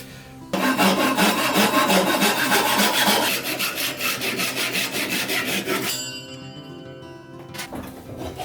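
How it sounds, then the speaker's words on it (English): Hand saw cutting through exotic wood for necklace pieces, a steady rapid back-and-forth rasping strokes close up and loud, easing off near the end. "Getting a little better at sawing straight lines"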